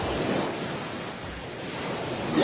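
Large waves break in heavy Pacific surf at Waimea Bay on Oahu's north shore, a continuous loud roar and wash with little gap between sets, mixed with wind noise on the microphone.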